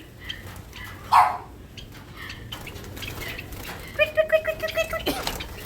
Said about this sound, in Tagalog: may mga alaga siyang ibon